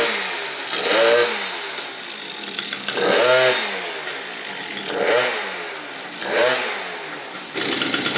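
A rebuilt Yamaha BWS 70cc scooter runs through its first heat cycle. The engine revs up and falls back four times, a whining rise and drop each time, with a rough idle in between.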